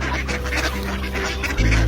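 Hungry ducks being fed in a park in Oslo, quacking and honking in a close, busy flurry, with a louder low rumble at the end.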